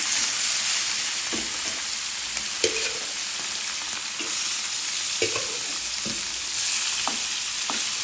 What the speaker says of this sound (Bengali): হালকা ভেজে নেব বেশি ভাজবো না